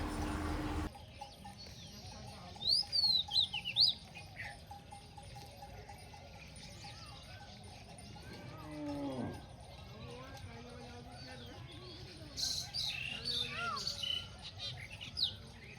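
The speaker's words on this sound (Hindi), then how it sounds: "इतने करीब से हमारे राष्ट्रीय पक्षी मोर को देखना और ये आती हुई तीखी पक्षी की आवाज़ आपका स्ट्रेस एकदम ख़त्म कर देगी" Faint, sharp bird calls, with peacocks nearby, carry across a quiet morning in Fatehpur village in the Hadoti region, scattered over soft background noise, distant livestock and occasional talk.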